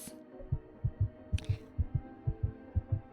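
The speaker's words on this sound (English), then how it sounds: "Oh, the heartbeat sounds." A steady heartbeat sound effect in the Tears of Themis story game pulses in paired lub-dub beats, about ten thumps in a regular rhythm over a low hum, with a brief higher blip partway through.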